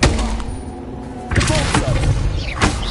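A Bombarda blasting spell going off in Hogwarts Legacy on PS5: a few sharp, heavy bangs with rumbling tails, loud and close, the first opening the clip and another hitting about halfway through, with brief spoken words.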